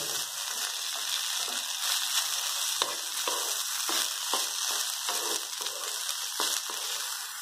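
Okra fries in a pan with onion, giving a steady close sizzle crossed by soft scraping stirs at irregular intervals.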